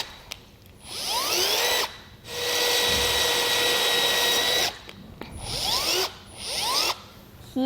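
A power drill with a 5mm bit bores pilot holes while a Rhino-Rack Vortex roof rack is installed. Several loud, close whirring bursts rise in pitch and stop, separated by short pauses.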